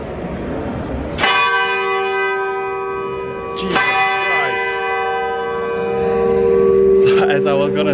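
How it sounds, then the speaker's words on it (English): Large church bells ringing in a tall tower in Germany, heard up close from the narrow stairs about 53 meters up: loud struck strokes with long sustained ringing tones, a new strike at about 1 s, 4 s and 7 s, with a startled exclamation over them. "at the 53 meter mark, there's the bells"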